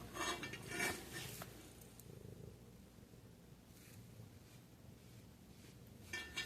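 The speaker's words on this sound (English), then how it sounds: "He's purring very loudly." Soft rumbling purr from a cat, close and continuous, with a few faint rustles and clicks around it.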